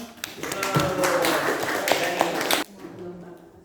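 A physics class claps after a student presentation, a dense burst of many hands clapping that stops abruptly, with voices mixed in beneath it.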